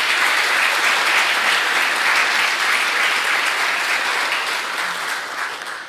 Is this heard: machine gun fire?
no